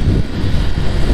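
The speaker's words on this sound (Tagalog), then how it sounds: "ang hangin!" Strong wind buffets an outdoor microphone beside a Ducati Monster motorcycle, a continuous loud low rumble and roar of gusts with no talk.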